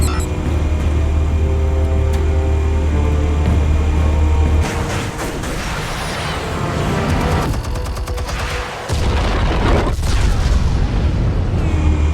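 Explosives detonate in the Batman Telltale video game, a dense series of heavy booms and crackling blasts that roll on for several seconds, briefly thin out, then surge loudly again.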